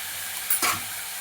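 Onion and tomato fry for butter chicken gravy with a steady, close sizzle. A quick stirring scrape rises briefly in the middle.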